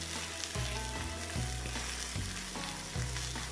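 Meat sizzles loudly in a hot pan, with a few bumps and scrapes as pieces are turned, browning on all sides for Greek moschari kokkinisto.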